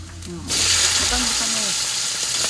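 Two kilos of shrimp drop into a hot pan and burst into a loud, steady sizzle that fills the kitchen, with a voice faintly audible over the frying.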